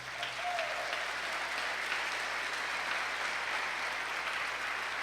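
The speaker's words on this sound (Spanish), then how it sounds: "Denle un fuerte aplauso al Señor." Congregation at a church service claps in a steady, dense wash of applause that holds at an even level for the whole stretch, with no voices breaking through.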